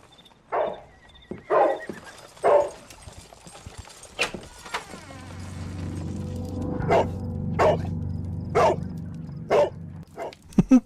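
Toby the dog in the Sherlock Holmes: The Devil's Daughter video game gives a run of sharp, spaced barks and yelps, some loud and close, over a rumbling background with clattering hits in between.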